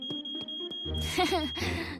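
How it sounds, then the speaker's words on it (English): A high, piercing smoke alarm tone rings steadily while voices and household noise sound underneath, in a cartoon. "Oh, the smoke alarm."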